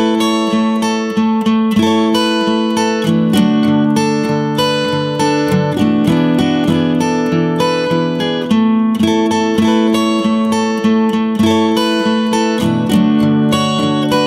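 A guitar plays the intro of a song, a steady, bright fingerpicked melody with ringing notes, loud and close, alone without voices.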